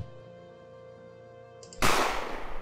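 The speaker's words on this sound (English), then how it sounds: "if you keep on shooting, you're just going to keep on losing bullets" A single sharp gunshot effect sounds in a Scratch video game as a bat is shot, a sudden loud crack after a quiet stretch of low electronic hum.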